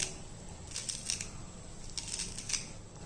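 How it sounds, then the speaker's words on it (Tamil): Fresh coriander leaves being chopped or snipped in a home kitchen, a few soft, crisp cuts in short clusters, close and quiet over faint background hiss. "இப்போ நம்ம கொஞ்சம் மல்லி இலையை நறுக்கி போட்டுருவோம்."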